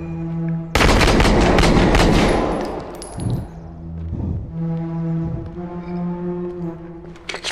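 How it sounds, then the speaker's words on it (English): In realistic video game footage, a heavy gunshot bursts loud and near, then rolls off into echoing rumble with a few fainter reports, while a steady low drone hums underneath throughout. "Shots fired!"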